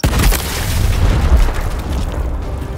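A frag grenade goes off in the tactical shooter Gears Tactics, a loud, close boom with a heavy low rumble that rolls on and slowly fades over a few seconds, with no talk.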